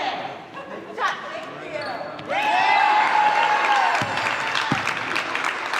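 A sideline cheering squad applauding and cheering at a Granny basketball game in Mulvane, Kansas: steady clapping and crowd noise, with ball bounces first, then sustained applause.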